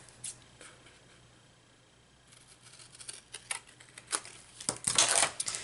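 Scissors or a blade cut cardboard from a tea box in sparse snips and crisp crunches that grow denser and louder toward the end, heard close up.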